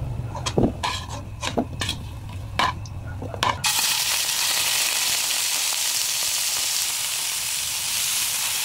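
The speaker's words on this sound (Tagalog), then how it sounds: "Pan-fry muna natin ang ating baka. Ayan, beef yan, beef. Pan-fry muna hanggang sa mag-brown." Beef pieces dropped into a hot pan to brown, with a few clattering knocks and stirs first, then a loud, steady sizzle that fills the rest of the clip.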